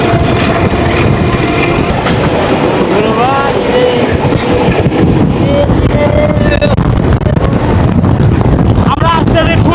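The Mahananda Mail passenger train runs on rails from Rohanpur toward Khulna, with a loud continuous rumble and clattering wheels, strong wind noise and voices chatting in the background.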